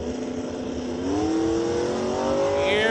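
A drag racing truck roars down the track at a bracket race, its engine note rising steadily as it accelerates, loud and sustained, with the pitch climbing sharply near the end.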